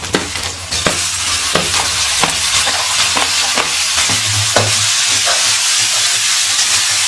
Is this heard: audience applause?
no